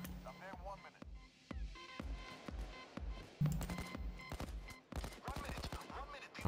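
Rapid gunfire in the heist shooter Payday 2, a steady run of close, punchy shots in bursts with brief pauses, mixed with game effects and a player talking over it.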